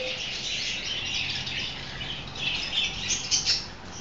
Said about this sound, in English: come look at these birds over here